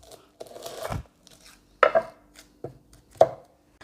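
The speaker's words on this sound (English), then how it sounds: "Let us start by dicing one medium onion. Cut the onion in half." A kitchen knife dices a medium onion, giving a handful of crisp, close chops at uneven intervals, each a quick thud on the board with quiet gaps between.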